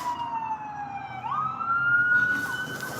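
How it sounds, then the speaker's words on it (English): Emergency sirens from police cars and fire trucks wail outside an office, one steady tone gliding down and then rising again into a sustained high wail, fairly loud over a constant low traffic rumble. "There's police cars everywhere, goddamn where outside my office."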